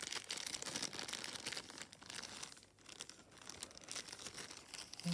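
A plastic bag crinkles and rustles close by, with continuous crackling bursts that briefly ease off midway.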